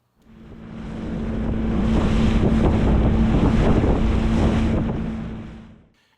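Strong wind roars and buffets across open sea from a small boat off the west coast of Scotland, a loud, steady rush swelling over several seconds with an engine hum underneath, then fading.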